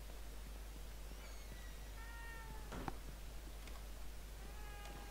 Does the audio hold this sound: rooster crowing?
no